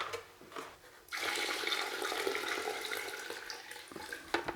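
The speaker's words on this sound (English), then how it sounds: "So let's dump this water in, and then we'll dump in the rest of my reclaim." Water is dumped into a bucket of dry clay reclaim, making a sudden rush of pouring and splashing that runs steadily for several seconds, fairly faint, with a few small knocks at the start and end.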